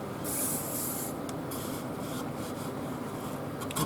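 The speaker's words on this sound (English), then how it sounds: "So I'm going to be sanding that" A Leylandii wood vase is sanded with coarse grit, giving a close, steady rasping rub that runs continuously, swelling briefly near the start and then holding even.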